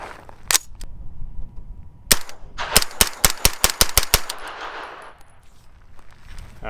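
A Palmetto State Armory ARV 9mm fed from a Scorpion magazine fires a few separate shots, then a quick rapid string of about nine sharp cracks. The shots are loud and close, with ringing echo between them.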